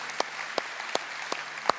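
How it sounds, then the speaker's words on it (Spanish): A church congregation applauds at a Spanish-language service, with sharp claps landing at a steady, regular beat over a continuous wash of crowd noise. "¿Puede darle un aplauso al Señor?"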